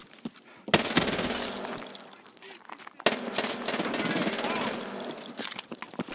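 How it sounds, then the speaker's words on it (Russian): Uzi Pro pistol submachine gun fired from the hip in a video game, two loud sustained bursts of rapid automatic fire with dense chattering shots, a short lull between them and scattered gunfire continuing around. "Так, я только появился, а тут уже стрельба вовсю."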